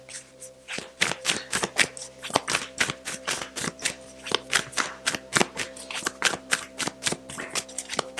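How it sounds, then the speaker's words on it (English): Oracle cards shuffled by hand, a fast run of crisp riffling slaps in a steady rhythm over a faint background hum. "Let's draw a couple of oracle cards to close out."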